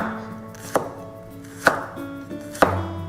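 A knife thinly slicing whole garlic cloves on a cutting board for a trout fillet dish, three sharp, distinct chops spaced about a second apart, close and crisp against a quiet background.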